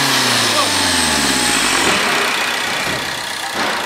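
A Fiat Linea's turbocharged engine revs as the throttle is pressed during injector maintenance, its pitch sweeping upward from a low rumble into a loud, close roar with a steady whine and rattle.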